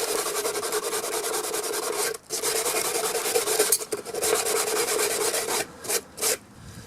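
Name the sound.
sanding a Suzuki Bandit dash light with cheap sandpaper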